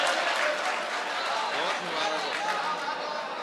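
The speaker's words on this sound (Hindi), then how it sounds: "जोरदार तालियों से इस्तकबाल किए दोस्तों।" Audience at an All India Mushaira in Mominpura applauding, a dense steady wash of clapping from a large crowd throughout, with voices mixed in.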